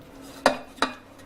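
Flour being stirred into melted butter in a pan, a roux for creamy mac and cheese; three short scraping knocks of a utensil against the pan, close and fairly quiet, with no talk.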